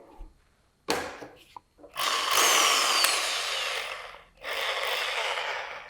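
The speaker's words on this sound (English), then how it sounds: "So we take a screw and we do a screw driving" A Bosch GSB 10 RE corded impact drill driving a screw at low speed, with a short opening burst, then a sustained whirring run of about two seconds, a brief pause, and another run close by.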